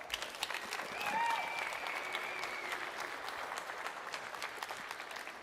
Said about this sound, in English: Please join me in giving the team a round of applause.